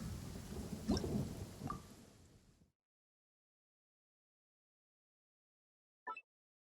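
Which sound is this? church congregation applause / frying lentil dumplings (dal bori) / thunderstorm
thunderstorm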